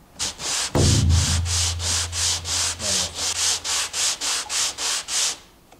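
Rapid back-and-forth scraping strokes shave the wooden base of a cheap replaceable-blade hand plane, about fourteen even rasping passes in a steady rhythm, close up, with a brief low hum beneath the first half.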